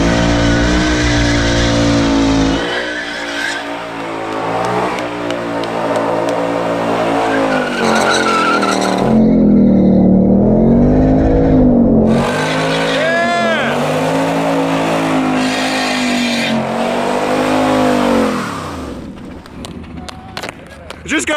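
A brand new Ford Mustang Bullitt driven hard by a NASCAR driver, its engine roaring loud and close with bursts of tire squeal and skidding throughout, engine pitch rising and falling as the car slides.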